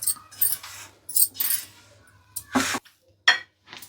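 Spoon scraping and clinking in a pan while rava laddu mixture with sugar is stirred, irregular bursts of metallic scrapes and taps separated by short quiet gaps, close and fairly clear.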